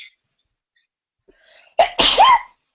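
A single loud sneeze close up, a sharp intake followed by an explosive burst, in an otherwise quiet room.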